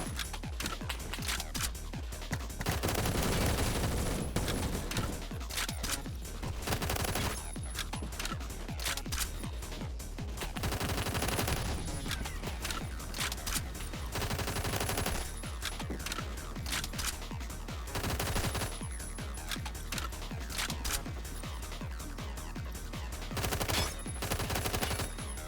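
F88T zero-recoil .22 LR conversion rifle firing in a video game, rapid bursts of sharp cracks repeating across the whole stretch, loud and continuous with short pauses between strings of shots.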